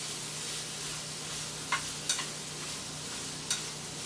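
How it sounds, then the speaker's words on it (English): Vegetables stir-fried in a pan, a steady sizzle with a few sharp scrapes and clinks from stirring, close and alone. "So now I want to stir fry my veggies."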